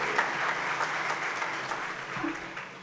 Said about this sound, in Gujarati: જેમણે સફળતા મેળવી એવા કોલડિયા સાહેબને જોરદાર તાળીથી વધારે